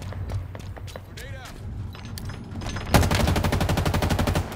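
Rapid automatic gunfire in the Halo Infinite video game on Xbox Series X, a fast string of loud repeated shots in the last second and a half, following quieter game sounds and a synthetic announcer voice.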